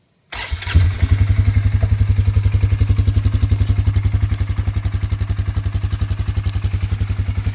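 Polaris Sportsman 450HO ATV engine cranks and fires up, then settles into a steady, loud, rhythmic running putter close by, with a faint clatter over the even exhaust pulses.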